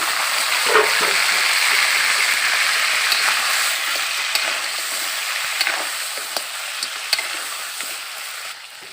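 Crab being stir-fried with fragrant garlic in a hill-country recipe: a loud, continuous hot-oil sizzle with small scattered pops and stirring clicks, steady from start to finish.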